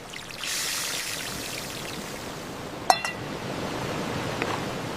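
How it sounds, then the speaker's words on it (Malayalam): Water poured into a pan of fish curry, a steady close pouring stream lasting several seconds, broken once by a sharp clink of glass or metal. "ഇപ്പൊ കുറച്ച് വെള്ളം ചേർക്കാം, കറി ഗ്രേവി ആകാൻ."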